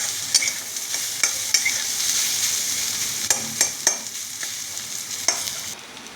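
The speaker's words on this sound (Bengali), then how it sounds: "এবার ভালো করে ভাজতে হবে।" A dry ground spice paste of fennel, coriander and garlic frying in a pan, with a steady hiss of sizzling oil and sharp scraping clicks as a spoon stirs at irregular intervals.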